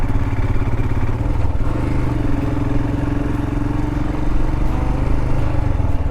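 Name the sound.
Royal Enfield Himalayan motorcycle riding off-road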